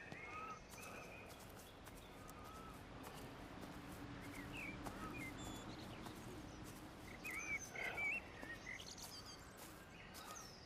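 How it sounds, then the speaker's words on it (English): Scattered faint birdsong chirps drift over a hushed outdoor ambience in the video game Everybody's Gone to the Rapture, with soft rustling steps and no voices. "I love the sounds of the birds."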